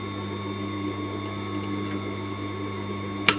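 A sewing machine hums steadily while stitching a fabric pocket, with a constant motor drone, a faint mechanical whir and a single sharp click near the end.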